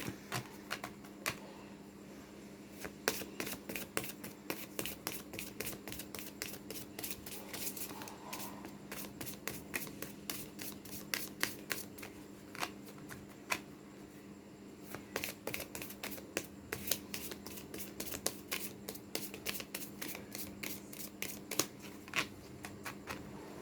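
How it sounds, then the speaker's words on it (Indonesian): Tarot cards being shuffled by hand, a long run of quick papery clicks and riffles in repeated bursts, close but fairly quiet, with no voices. "kita kocok kartu dulu"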